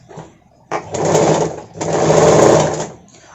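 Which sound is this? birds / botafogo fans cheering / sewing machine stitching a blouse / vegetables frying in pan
sewing machine stitching a blouse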